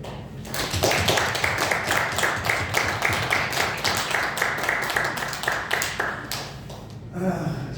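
A church congregation claps for a Christmas tree lighting ceremony, a dense burst of hand claps that swells, holds steady for several seconds and then tapers off near the end.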